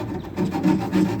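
A tool cuts through an aluminum rub rail on a boat, making short rasping strokes in a quick, uneven rhythm, close and fairly loud.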